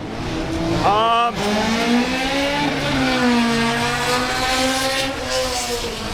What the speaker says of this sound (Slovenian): Bo še že malo odpeljal po stezi, malo demo krogcev